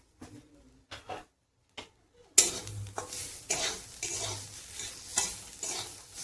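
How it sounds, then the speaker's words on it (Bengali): Bitter gourd fries with cumin powder in a pan. A few quiet scrapes come first, then a louder sizzle starts, broken up by repeated stirring strokes. It is close and has no talking. "তো আবারও আমি এভাবে অল্প ভেজে নেব।"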